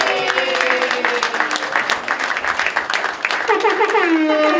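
Applause from an audience at a public art opening for the first phase artists, a burst of clapping with crowd voices and talk over it, close and loud throughout.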